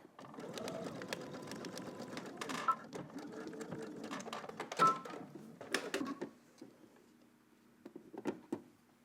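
A sewing machine stitches down a polo shirt collar in several short bursts of rapid mechanical chatter, separated by pauses with small clicks and handling sounds, close and fairly quiet.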